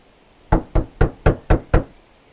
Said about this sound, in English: The little squirrels heard the knock and said, "Who's at the door?"